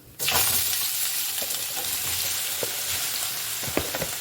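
Sliced big onions hit hot oil in a pan for chicken biryani, bursting into a loud, dense sizzle that stays steady throughout with small crackles and spatters.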